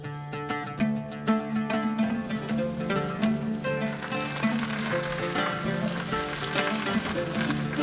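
Onion dosa sizzles loudly in oil on a lid-covered pan over medium heat. A dense, continuous frying crackle fills the whole stretch, with a few sharp clicks near the start.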